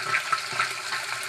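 Water rushes steadily into an organic water filter, a continuous broadband splashing flow with a few brief bubbling gurgles, close and moderately loud.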